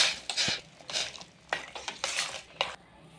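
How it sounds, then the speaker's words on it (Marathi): A spoon scrapes and clinks against a pot as boiled soybeans with a pinch of salt are stirred, in a few quick uneven strokes close up in a home kitchen. "सोयाबीन टाकल्यानंतर ना थोडंसं चिमूटभर असं मीठ टाकायचं, त्यामध्ये ते ढवळून घ्यायचं जरा"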